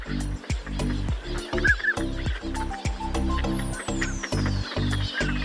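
Northern pintail ducks call over a busy mechanical rhythmic background: brief nasal quacks and a higher whistled note stand out amid repeated clicking, ratchet-like pulses and a falling tone.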